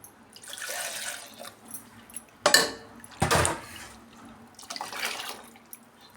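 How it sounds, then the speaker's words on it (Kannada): Water is poured into a mixer jar holding ground masala for obbattu sambar in a home kitchen. The splashing is faint and comes in a few uneven spurts, with a couple of louder gushes midway. "ಎಷ್ಟು ಬೇಕೋ ಅಷ್ಟು ನೀರು ಸೇರಿಸ್ಕೊಳ್ಳೋಣ."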